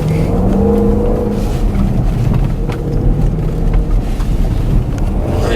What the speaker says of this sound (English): I'm gonna downshift for this turn here.